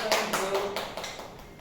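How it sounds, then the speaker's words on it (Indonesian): A classroom of students claps for a classmate, a short burst of several quick, close, fairly quiet claps that fade out within about a second and a half. "Tepuk tangan dulu untuk Mbak Lulita."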